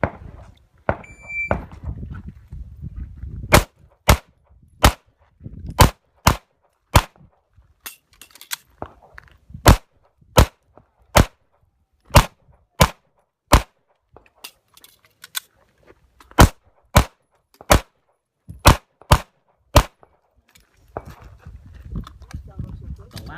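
Pistol shots fired during a dynamic shooting match stage of an IDPA, USPSA or IPSC type event, about twenty loud sharp reports in quick strings and pairs with short pauses, a voice briefly heard at the start.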